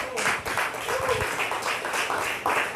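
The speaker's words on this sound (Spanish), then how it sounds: "Denle un aplauso a Dios." A church congregation applauds during a Spanish-language sermon, a short burst of scattered, moderately loud clapping with uneven rhythm mixed with voices.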